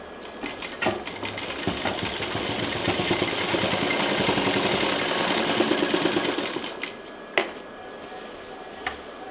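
A sewing machine stitches the end of a backpack belt, building into a fast, steady mechanical whirr with rapid needle clatter for several seconds, then slowing and stopping with a few isolated clicks, close by.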